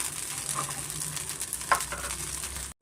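Red rice dosa frying on a hot pan, a steady soft sizzle running throughout with a faint scrape or stir near the middle, close and moderately loud, cutting off abruptly at the end.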